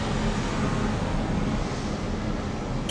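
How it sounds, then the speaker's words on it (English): A passing airplane drones steadily overhead, coming in through an open sliding glass balcony door as a broad, loud, continuous rumble with no talk over it. "Another plane."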